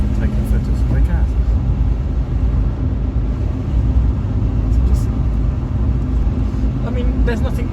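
Steady road noise from inside a Fiat 500 Hybrid driving in the Azores: a loud, dense low rumble of engine and tyres that continues without a break.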